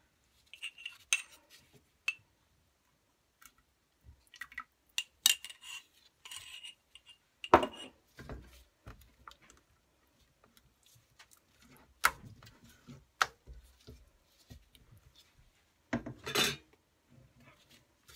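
Sporadic clinks and scrapes of a utensil against a container while hand-stirring a soap mixture, irregular and fairly close, with quiet gaps between bursts.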